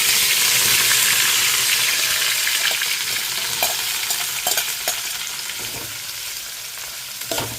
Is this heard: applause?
no